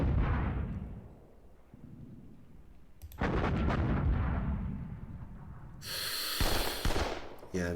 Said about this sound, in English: Let's just fire once with the guns.